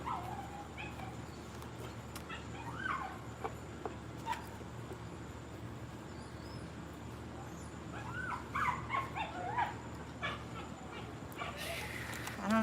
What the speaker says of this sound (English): I don't know if you guys hear the dogs.